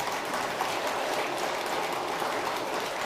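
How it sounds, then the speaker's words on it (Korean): Applause from the congregation at a Sunday Buddhist dharma service in a Seoul temple hall: a dense, even patter of many hands clapping, steady and moderately loud throughout, with no voices. "박수 또 치세요."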